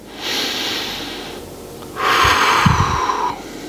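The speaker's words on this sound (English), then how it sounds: "As you can see, I'm breathing in and out." Deep breathing during a slow lumbar disc exercise for sciatica relief, a long airy inhale followed after a short pause by a louder, rougher exhale, close to the microphone.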